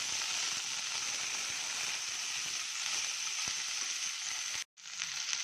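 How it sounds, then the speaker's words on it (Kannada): Vegetables frying with tempering and ginger-garlic paste in a pan give a steady, close hiss of sizzling oil that runs without pause, broken only by a brief dropout near the end. "ಒಗ್ಗರಣೆ ಜೊತೆ ಇದೆಲ್ಲ ಫ್ರೈ ಆಗಿ ಈ ತರಕಾರಿ ಜೊತೆ."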